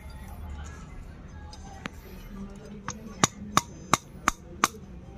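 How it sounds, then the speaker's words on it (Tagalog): Sharp metal hammer blows drive a bushing out of a YSS Top Plus dual shock for a Honda TMX 125 Alpha with sidecar, with a tentative tap followed by six loud, evenly spaced strikes close by. "tsaka nyo pukpukin yung bushing. Okay, pukpukin mo na."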